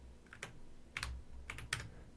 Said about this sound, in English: I'm using my arrow keys on my keyboard here